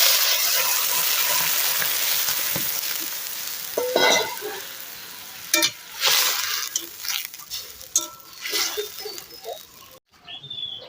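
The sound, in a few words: warm water poured into frying vegetable curry with green chili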